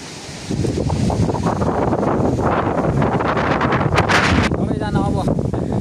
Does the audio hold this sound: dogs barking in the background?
no